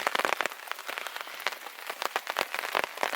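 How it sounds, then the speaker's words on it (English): Steady rain patters on a hard surface, dense irregular drops close by, with no voices. "it's bloody raining out"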